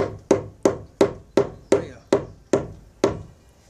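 Eight evenly spaced knocks on a door beam as it is tapped down to level, each a sharp, solid thud with a brief decay, close and clear, without talking.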